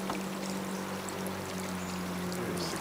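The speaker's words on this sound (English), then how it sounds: "There's the creek." Creek water runs steadily along a trail, a continuous broadband rush and pour that stays close and even throughout, with a faint low hum underneath.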